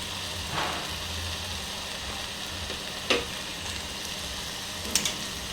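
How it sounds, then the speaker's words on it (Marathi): Potato, onion and tomato pieces sizzling in hot oil for a mixed sprouted-legume curry, a soft steady hiss broken by a few sharp stirring clicks, quiet and close. "आता ह्यात मी थोडासा बटाटा, कांदा आणि टोमॅटोचे काही तुकडे टाकणार आहे।"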